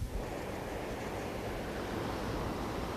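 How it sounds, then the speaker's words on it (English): Ocean waves washing onto a sandy beach make a steady, continuous roar of surf that stays at an even loudness throughout. "carried by waves and deposited on this beach."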